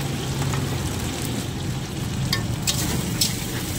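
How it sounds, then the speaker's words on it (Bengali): Bitter gourd frying in oil with panch phoron: a steady, close sizzle with constant crackling and occasional scraping stir sounds, no talking. "তেলের মধ্যে পাঁচফোড়ন দিয়েছি, আর এই যে উচ্ছেগুলো ভেজে নেব।"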